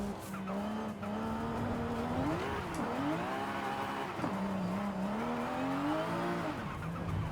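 A car driven in Forza Horizon 5, its engine holding a droning tone that rises and dips with speed, with tire squeal and skidding throughout and no talking.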